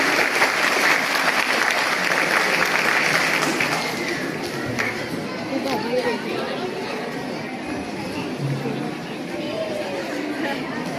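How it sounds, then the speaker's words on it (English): Sustained audience applause at a school annual function, a dense crowd clapping for an appreciation award, with chatter mixed in and the clapping easing slightly toward the end. "Once more time, please give a clap."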